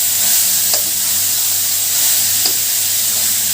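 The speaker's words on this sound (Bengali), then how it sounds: "গাজরটা ভাজতে হবে ঘিয়ে" Grated carrots sizzle steadily in ghee over a high flame, a constant close frying hiss broken by a couple of soft stirring scrapes.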